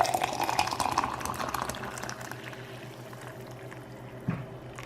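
Hot water pours steadily into a French press over coffee grounds, a close, bubbling fill that is strongest at first and then tapers to a softer trickle, ending with a brief knock.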